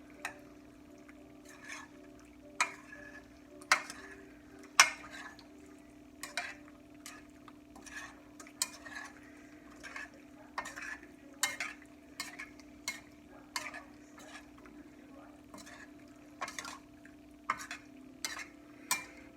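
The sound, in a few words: stirring pasta bake mixture in a pot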